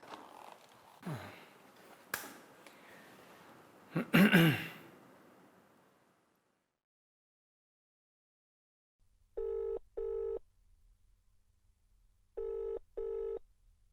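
Telephone ringing in two paired bursts, clear and close, after an earlier stretch of breathy movement sounds and a pause of silence.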